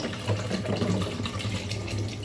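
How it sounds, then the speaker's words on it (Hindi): Water pours steadily into a pot of cooking masala, a litre from a bottle, giving a continuous splashing, gurgling stream close by with no voices over it. "मैं इसके अंदर लीटर पानी डाल दूँ।"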